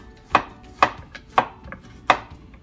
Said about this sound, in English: you just cut it right thin